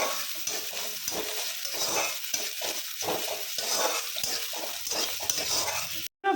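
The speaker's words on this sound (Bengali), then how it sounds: "ভাজা ভাজা করে নিই" Onions sizzle and fry in hot oil in a wok, with a continuous crackling hiss broken by repeated scraping and stirring strokes of a spatula, close and alone.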